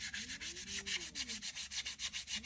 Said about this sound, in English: I thought sanding this might have been a little bit difficult, but, you know, with the sanding sponges,